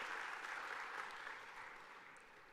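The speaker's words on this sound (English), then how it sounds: "let's give a round of applause" Audience applause at a university welcome day event, a dense wash of clapping from a crowd heard at a distance, fading gradually toward the end.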